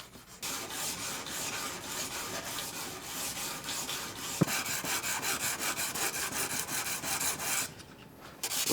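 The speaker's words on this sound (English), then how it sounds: "I could just sand across the entire tip and into the rest of the blade" Steady hand sanding of a steel katana blade, a continuous rhythmic rasping scrape with back-and-forth strokes, close and fairly loud, with a brief pause near the end.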